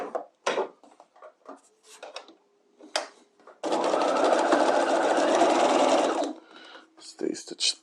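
A sewing machine stitches the side seams of an outer bodice at a half-inch seam allowance, running in one steady whirring burst of about two and a half seconds between scattered handling clicks and taps.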